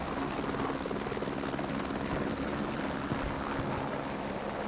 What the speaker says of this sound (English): Helicopter is going to wave off a little bit.